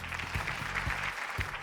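Studio audience applause on a Malayalam TV game show, steady clapping from a crowd at moderate level with a few low thumps mixed in.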